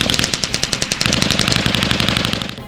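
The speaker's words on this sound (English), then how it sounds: "To orient the cadets with different heavy weapons, they are taken to an exercise for a couple of days, namely field fire." Heavy weapons field fire during a cadet exercise at Bangladesh Military Academy: a loud, rapid automatic burst of evenly spaced shots that merges into a dense rattling roar before fading out.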